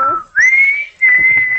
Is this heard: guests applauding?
no